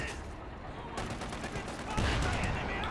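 Upgraded machine gun fire in the real-time strategy video game Company of Heroes 2, dense rattling bursts of automatic fire mixed with battle noise, with a commentator talking over it.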